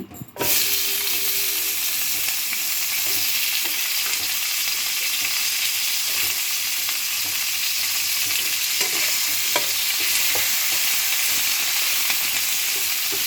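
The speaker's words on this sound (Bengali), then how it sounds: "যেটুকু তেল আছে ওর মধ্যেই আমি সিমগুলো দিয়ে দিচ্ছি" Lima beans fry in a shallow layer of leftover oil in a pan, giving a steady, loud, continuous sizzle with occasional stirring scrapes throughout, and no talking.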